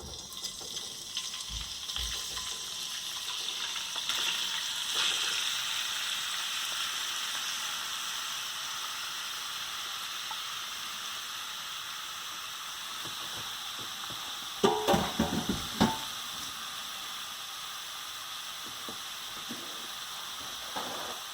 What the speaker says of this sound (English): Okay, looks like our oil is ready, and we'll start putting the tofu in.